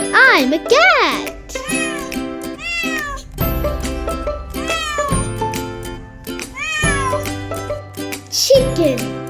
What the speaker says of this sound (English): I'm a cat.